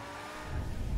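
A Tuatara supercar in the game GTA 5 accelerating, a steady engine drone that swells and grows louder and deeper in just a second, heard alone without voices.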